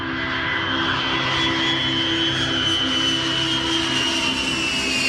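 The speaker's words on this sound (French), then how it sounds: "Airplanes." An airplane flies close by, a loud, steady jet roar with a whining tone that shifts slightly in pitch, heard alone for the whole stretch.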